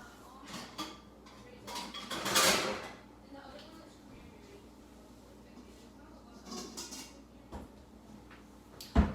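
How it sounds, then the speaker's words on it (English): A home cook pulls a pan out of a kitchen cupboard. There are a few faint clatters and knocks of a cupboard door and metal cookware, close to the microphone, against a quiet room. "I'm going to grab a pan really quick."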